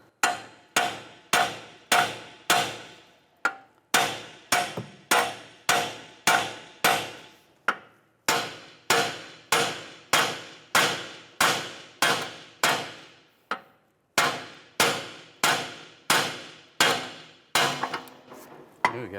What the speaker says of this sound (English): I'm going to take a large punch and I'm going to hammer the knuckle down to separate it from the strut